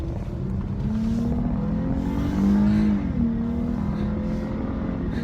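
A 2017 Dodge Charger SXT V6 accelerating, engine note climbing steadily in pitch through the gears, heard from inside the car with no talk.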